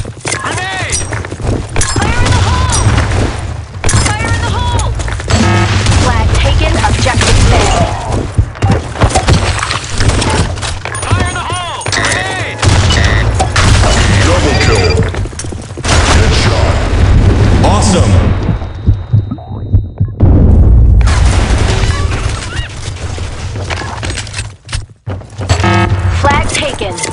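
Grenade blasts go off repeatedly in a Blackshot match on a sandy desert map, booming thumps mixed with gunfire and frequent shouted callouts throughout.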